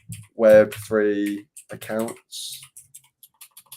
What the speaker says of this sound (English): Sorry for the noise. I've got a mechanical keyboard.